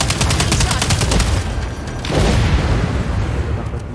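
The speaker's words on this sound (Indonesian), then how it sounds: "Kok meledak?" Explosions in the video game Second Extinction, loud bursts with rapid crackling fire followed by a second heavy blast, filling the short stretch without talk.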